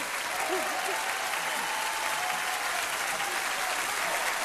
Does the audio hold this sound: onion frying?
no